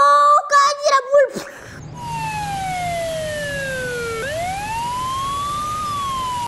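A toy fire engine's siren wails steadily and loudly, sweeping down and back up in pitch, after a few brief sound-effect bursts at the start; no one speaks over it.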